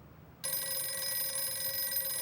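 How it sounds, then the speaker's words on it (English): A telephone bell starts ringing abruptly and keeps going, a loud, steady electronic-sounding trill with bright sustained tones that stays alone with no voices. "You really should answer the phone, Eldon."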